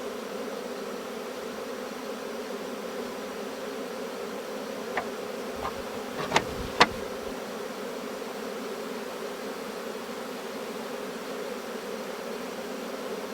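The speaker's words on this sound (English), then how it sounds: "That tends to help hold the bees." A swarm of honey bees buzzes steadily around a hive, a dense, even droning hum from many insects close by, broken by a few faint sharp clicks partway through.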